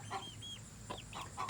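Young chickens with their adult feathers coming in give soft, short clucks and chirps in a few separate bursts, close by against faint background hum.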